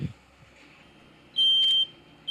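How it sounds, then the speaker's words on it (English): A single loud, piercing electronic beep from a smoke detector lasting about half a second, over a quiet room hum, during a dorm room fire demonstration. "Smoke detector is already going off in the room."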